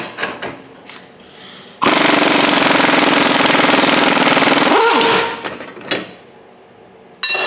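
An air or power tool running hard on a press while a wheel bearing is pressed on a Mazda, with one long, loud, steady hammering burst lasting several seconds, then a brief rattle and a short final burst.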